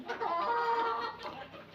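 Chickens cluck softly and continuously nearby in a farm shed bedded with wood shavings, a low murmur of several birds with no talking.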